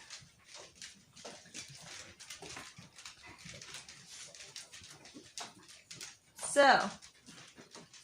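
Nervous dogs panting and whimpering close by, with soft breathy pants running through most of the stretch, a louder burst near the end, and a person talking over them.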